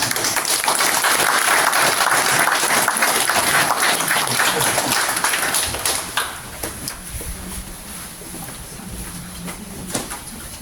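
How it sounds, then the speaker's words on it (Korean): Applause from the congregation at a Buddhist memorial ceremony, welcoming a monk who is about to give a speech; dense clapping for about six seconds, then tapering into scattered claps and room noise. "모두 박수로 환영해 주십시오"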